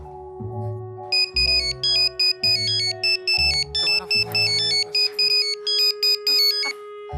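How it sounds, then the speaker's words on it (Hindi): A phone ringtone plays a repeating electronic melody in short, regular bursts, loud and close, with a few brief voices around it. "किसका फोन है?"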